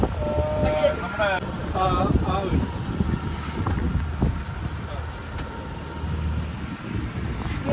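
Gusty wind buffets the microphone aboard a moving boat, with an engine rumbling below and people talking nearby.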